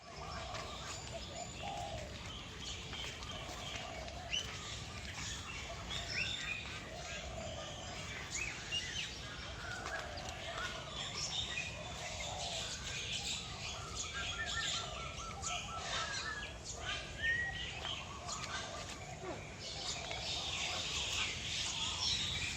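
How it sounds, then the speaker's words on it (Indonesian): Many birds in a bird park in Jakarta, mostly pigeons and doves, coo and chirp continuously at moderate distance over a steady outdoor murmur, with people faintly talking nearby. "Burungnya banyak Kak."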